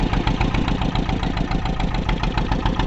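A ferry boat's engine idles steadily at a jetty near Vesavi village, a loud continuous mid-pitched throb with a regular pulsing rhythm and no talk over it.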